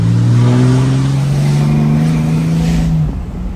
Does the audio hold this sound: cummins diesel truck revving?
yes